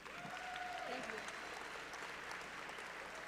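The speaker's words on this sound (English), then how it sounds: "Please give him a big round of applause" An audience at a hackathon closing ceremony and demo session gives a steady round of applause that fills the hall evenly from start to finish, with faint voices beneath it.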